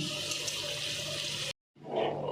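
Water pours in a steady noisy stream into lentils for dal khichdi, then cuts off briefly before a splashing pour resumes.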